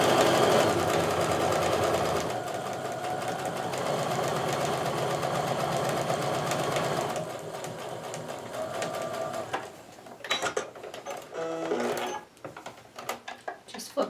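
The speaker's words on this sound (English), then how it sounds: "I'm going to sew down both sides of this drawn line" A sewing machine runs in fast, steady stitching bursts along a drawn line on quilt block fabric, stopping and starting near the end as the fabric is turned.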